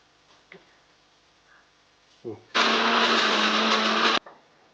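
A mixer grinder grinding coconut, tamarind and garlic for dosa masala starts with a sharp whirring roar, runs loud and steady for under two seconds, then cuts off, after a few clicks and handling knocks.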